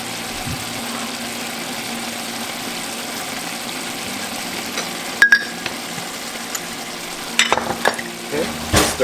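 A spoon stirs Vietnamese beef stew (bo kho) with black pepper and sugar in a pot, a soft steady bubbling simmer with a few sharp scraping clinks near the middle and end.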